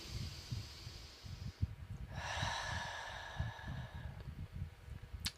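A deep breath drawn in during breathwork meditation, a long airy inhale swelling after a soft snort, set over a low, rhythmic thumping backdrop, close and fairly quiet.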